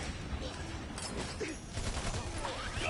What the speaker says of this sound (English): dropping the airstrike